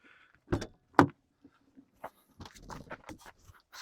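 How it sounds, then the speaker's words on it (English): A van door slides and thumps shut with a couple of sharp knocks, followed by rattling and scraping handling sounds nearby. "So I nearly hit myself in the face with a van door."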